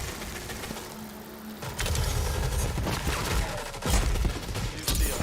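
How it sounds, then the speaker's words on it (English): Bursts of rapid gunfire crackle in quick volleys, moderately distant, with sharp individual shots cutting through a busy background. "A lot of gunfire,"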